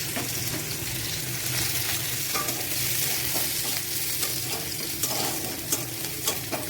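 Finely chopped garlic frying in a little oil in a wok, a dense continuous sizzle with light scraping stirs and a few soft knocks toward the end, no talk.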